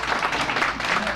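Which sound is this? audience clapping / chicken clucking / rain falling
audience clapping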